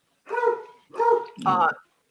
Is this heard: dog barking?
yes